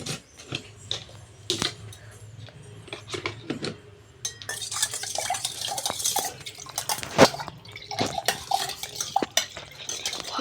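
A spoon stirs a drink in a glass, giving repeated light clinks and scrapes in an irregular rhythm, close by and moderately loud, with some faint kitchen clatter behind.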